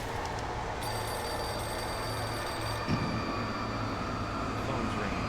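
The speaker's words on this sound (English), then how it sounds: "Phone's ringing." A telephone rings in the video game Alan Wake with a steady electronic trill over a constant low rumble, then stops partway through as the background noise carries on.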